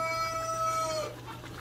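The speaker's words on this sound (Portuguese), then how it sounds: "Aqui o galo a gente conversa e o galo canta também" A rooster crows in one long, drawn-out call that tapers off, heard at moderate distance over a low background hum while food is being cooked.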